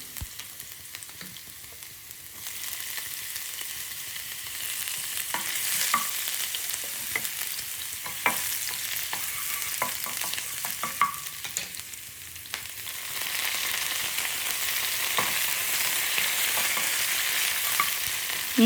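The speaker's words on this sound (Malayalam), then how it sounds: "എന്നിട്ട് നമ്മൾ അരിഞ്ഞ് വെച്ച് നമ്മൾ ഇഞ്ചി വെളുത്തുള്ളി നമുക്കിതിലേക്ക് ആഡ് ചെയ്ത് കൊടുക്കാം. എന്നിട്ടൊന്ന് വഴറ്റി കൊടുക്കാം." Chopped ginger and garlic sizzle and fry steadily in hot coconut oil in a pan, a close, continuous crackle with occasional stirring scrapes and no talking.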